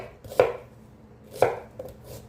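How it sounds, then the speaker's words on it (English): A knife rough-chopping onions on a board, with two distinct sharp chops about a second apart and a lighter third cut, close and clear against near silence. "Now, I'm just going to rough chop diced onions"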